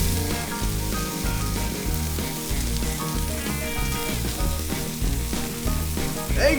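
Bacon fries on a hot griddle for a burger, giving a loud continuous crackling sizzle over a low rhythmic background beat.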